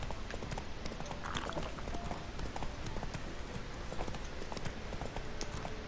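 A horse's hooves clip-clop in steady rhythm as it moves across terrain in The Witcher 3 video game. The gait is continuous and fairly close over a busy ambient background.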